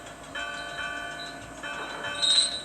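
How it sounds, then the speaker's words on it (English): A big bell held in a large wooden frame rings as it is loaded onto a train's flatbed wagon, its sustained tones and overtones ringing on steadily at moderate loudness with a brighter strike near the end; no speech. "The bell chimed cheerfully as it was loaded onto Duncan's flatbed."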